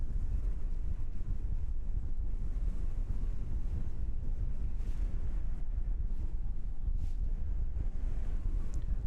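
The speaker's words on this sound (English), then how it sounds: "Just as that southerly gale picks up there, our ATR is heading off into the southerly gale." A strong southerly gale blows across Christchurch Airport in New Zealand, a constant, loud rumble of wind buffeting the microphone with surging roaring gusts and no talking.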